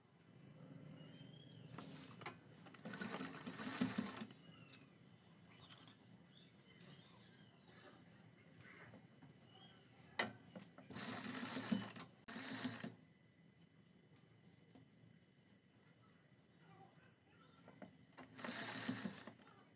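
Short bursts of a sewing machine rattling rapidly as a fabric strip is stitched onto a kurti neckline, three or four separate runs with quiet handling noises in between, fairly faint and close.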